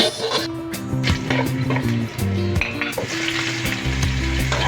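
Pork fat rendering into chicharon in a kawali, crackling and sizzling loudly and continuously with spatters and occasional stirring knocks, close up and with no voices.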